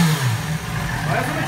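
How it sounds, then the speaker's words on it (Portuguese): A Yamaha XJ6 motorcycle fitted with its original stock exhaust revs in a low, rough drone, with loud engine rumble running through the short stretch and voices talking over it. "O barulho da moto Renato tá igual a máquina de lavar roupa, moleque."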